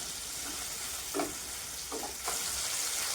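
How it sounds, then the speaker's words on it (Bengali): Tomato and ginger paste with salt frying in a pan, a steady close sizzle with a few soft scraping stirs breaking through. "টমেটো আদা 2 মিনিট ভেজে নিব"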